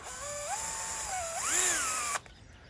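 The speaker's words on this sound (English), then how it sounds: "The easiest way of showing you that is to drill a couple of holes in this hose pipe." A power drill bores holes into a garden hose pipe, its motor whining loud and close in rising and falling pitch for about two seconds before cutting off abruptly.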